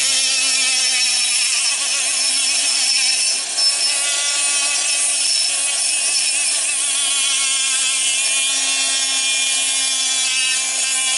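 Rotary hand piece porting a Farmertec Stihl 038 (MS380) two-stroke chainsaw cylinder, a steady high-pitched whine and grinding rasp running continuously and close, with no talk.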